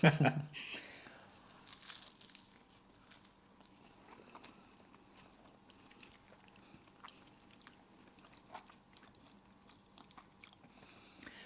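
Someone bites into and chews a flaky Greggs steak bake, with soft crunching and crinkling of pastry close by. The sounds are faint, with quiet chewing continuing after a sharper first bite.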